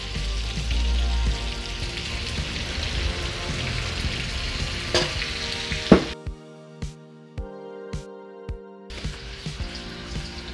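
Pork belly frying in a pan as dark soy sauce goes in for a Chinese spiced pork belly and egg stew: a dense, loud hiss that suddenly quiets into softer sizzling with a regular series of dull utensil knocks.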